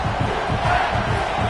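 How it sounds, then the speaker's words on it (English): A packed football stadium crowd roars at full throat during a Western Kentucky versus Kentucky game, a dense, continuous wall of cheering that stays loud throughout. "This crowd, full throat, splitting the eardrums"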